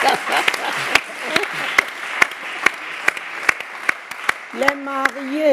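A congregation at a Christian worship broadcast claps in a steady, rhythmic unison beat under a constant crowd wash, with a voice speaking briefly near the end.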